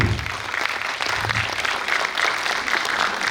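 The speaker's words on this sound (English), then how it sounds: "Let's give a huge round of applause to Ayan Pal." An audience at a Toastmasters district meeting applauds a keynote speaker, a brief, steady wash of clapping at moderate level, somewhat muted, with no talking.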